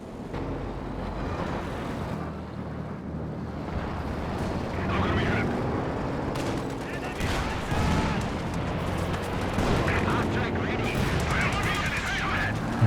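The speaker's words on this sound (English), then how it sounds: "Major's artillery dropped down" Artillery barrage in Company of Heroes 2, a dense wash of rumbling explosions and crackling gunfire that swells and stays loud throughout, with other battle noise layered underneath.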